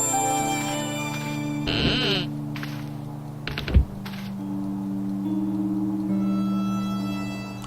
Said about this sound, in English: How is there a sheep?